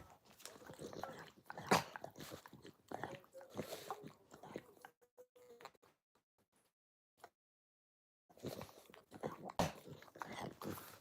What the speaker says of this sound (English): Be quiet, dog